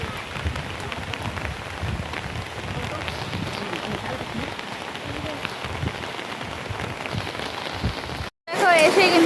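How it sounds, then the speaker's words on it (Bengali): Heavy rain pours down at a village home in Bangladesh, a dense, steady patter that holds evenly before cutting out briefly just before the end. "বাড়িতে এসে এত জোরে বৃষ্টি হচ্ছে"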